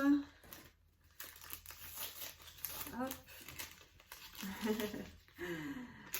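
Gift packaging is opened by hand, with close crinkling and rustling of paper or plastic in several bursts and a few brief tearing sounds, fairly soft, with faint voice sounds between them.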